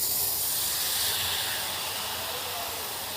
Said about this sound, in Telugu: నేను కొద్దిగా అంటే కొద్దిగా ఈ గోరువెచ్చటి నీళ్ళని ఇలాగా వేస్తున్నాను